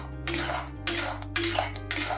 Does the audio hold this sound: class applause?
no